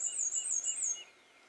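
A golden-cheeked warbler sings a high, buzzy, squeaky-wheel song in Texas Hill Country woodland, one thin wavering phrase lasting about a second before fading into quiet background.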